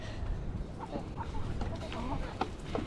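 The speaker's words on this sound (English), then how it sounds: "Look at these chooks." Backyard chickens cluck in short, scattered bursts during daily coop chores, moderately close over a steady low rumble of background noise, with no talk over them.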